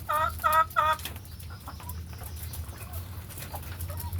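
Chickens on a poultry farm: three quick, loud clucking calls open, then fainter scattered clucks and chirps over a steady low hum of background noise.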